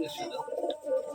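Gerebaj pigeons coo softly inside a loft in Rajshahi, with a voice talking nearby over the low, warbling calls.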